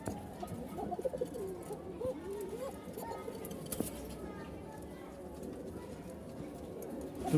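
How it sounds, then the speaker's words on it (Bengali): Pigeons coo at close range, a domestic male calling to a female in a new enclosure, with repeated soft throaty phrases and a person talking over them. "ককার ডাক শুরু হয়ে গেছে নতুন জায়গা তারপরেও ডাকতেছে মাদিকে নিয়ে"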